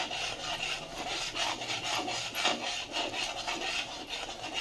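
Wheat flour being roasted in ghee in a pan, with a steady scraping, rubbing stir that continues at close range throughout, loud and without pause, with no voices.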